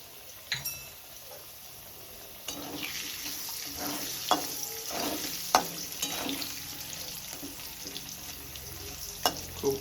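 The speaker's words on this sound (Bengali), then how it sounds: "এই যে আলুটা ভাজা হয়ে গেছে" Potato pieces frying in a little oil with salt and turmeric powder: a soft, continuous sizzle broken by sharp clinks and scrapes as a utensil stirs them in the pan, heard close up without talk.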